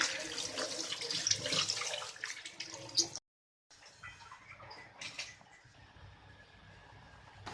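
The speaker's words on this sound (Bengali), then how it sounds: "এখন আমগুলো ধুয়ে নেব" Tap water runs over cut mango pieces in a sink, splashing close by for about three seconds, then a brief silence and softer trickling and rinsing.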